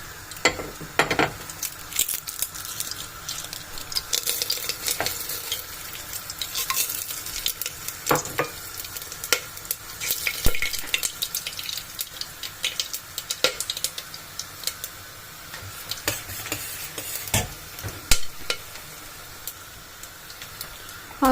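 Onions fry into crisp birista in hot oil for a biryani, a dense, continuous sizzle and crackle broken by frequent metallic scrapes and taps of a stirring utensil against the pan.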